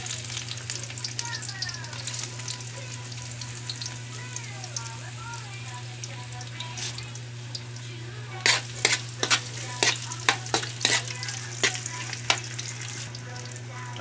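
Lemongrass and ginger sauté in a hot pan with a steady sizzle, broken by clustered clinks and scrapes of a utensil stirring in the later half; no voices.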